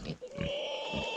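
A big mother sow grunts in a pig pen, a few low throaty grunts with a drawn-out nasal squeal running under them, close and fairly loud.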